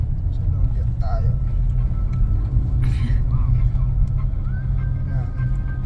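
Nissan Almera 1.0 engine pulling up a steep road in low gear, a steady, close low rumble of the engine heard from inside the car while a person talks over it.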